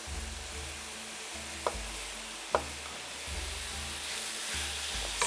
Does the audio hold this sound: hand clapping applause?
no